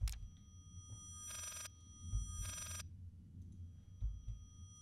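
An old telephone rings in the horror game Layers of Fear, two short electronic ring bursts a second apart, faint and alone over a low rumbling background.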